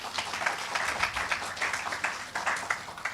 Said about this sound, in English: they should get a big round of applause as well